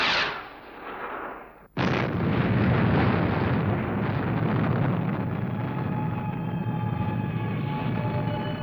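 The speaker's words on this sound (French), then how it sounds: "Mise à feu." A rocket fires up with a sharp ignition burst and then a loud, sustained roaring rumble that fills the space and holds steady, close and powerful, with no voices.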